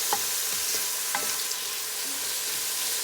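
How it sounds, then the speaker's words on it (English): Onions fry in a pot, a constant sizzling hiss with a few soft stirring knocks and scrapes near the start and middle, close and steady with no talking. "we add the onions to the pot, and we will fry this onion up for about 2 minutes"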